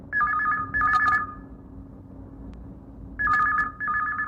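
A telephone rings twice during a radio call-in show, each ring a pair of rapid electronic trills, separated by a short quiet pause.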